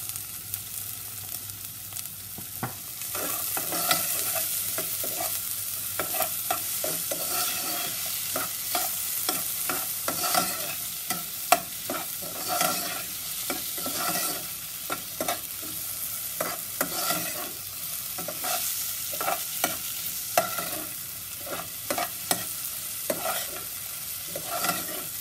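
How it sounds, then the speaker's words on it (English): Onions sizzling in oil in a pan with a little salt, stirred with frequent rapid scraping strokes over a steady bright hiss that runs the whole time, close and moderately loud, without speech. "So I'm just gonna go ahead and stir that around."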